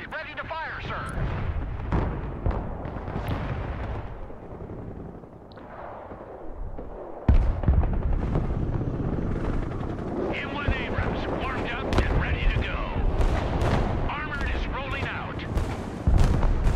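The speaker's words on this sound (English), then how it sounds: "Artillery ready to fire, sir!" Artillery barrages and gunfire boom through the battlefield of the Broken Arrow war game, dense rumbling blasts layered throughout, getting louder and fuller in the second half, with voices talking over the action.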